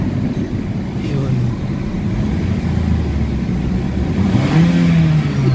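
A 2017 Toyota Altis engine with throttle delay and low power revs up to about 4,500–5,000 rpm and holds a rising drone, loud and close, with a brief surge near the end.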